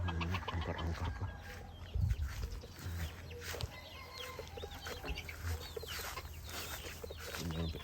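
Rhode Island chickens cluck and call continuously at close range on a free-range farm, with overlapping bird calls and farmyard background noise throughout.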